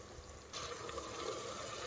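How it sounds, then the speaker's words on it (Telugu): Water begins pouring into a pot of rice for vegetable biryani about halfway through and keeps up as a soft, steady trickling splash, faint and close. "ఇప్పుడు వాటర్ వేసేసుకుందామండి"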